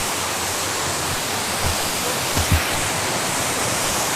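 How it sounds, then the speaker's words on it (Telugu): A waterfall at Chittampadu in Araku gives a loud, continuous broadband rush of falling water that stays steady throughout. A few brief low thumps near the middle stand out from the roar. "వాటర్ ఫాల్ వ్యూ అయితే చాలా బాగుంది చూడండి"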